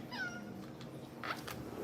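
A cat meows once close by, a short rising-and-falling cry, followed by a quieter chirp against faint background noise.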